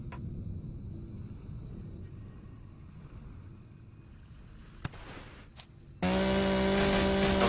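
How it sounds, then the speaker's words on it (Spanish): A chainsaw cutting a tree in the survival game Empyrion, a loud steady buzzing whine that starts abruptly and holds at full strength after a stretch of quiet ambient rumble and a few clicks. "Vamos a romper este árbol"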